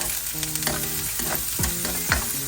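Onions fry in a pan for a Sri Lankan egg roll filling, a close, loud sizzle broken by quick stirring strokes and scraping of a utensil against the pan.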